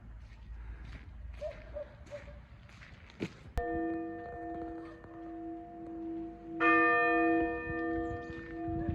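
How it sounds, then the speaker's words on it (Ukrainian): Church bells ringing in Rzhyshchiv, Ukraine: a single loud strike followed by sustained ringing tones, then a second fuller peal joining in, heard outdoors after quiet footsteps. "дзвони Московської церкви"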